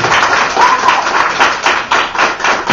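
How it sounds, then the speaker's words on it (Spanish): Applause for graduates' family members at an academy graduation ceremony, a dense steady clatter of many hands clapping at once, loud and continuous with no break throughout. "Ustedes denle un aplauso a los familiares."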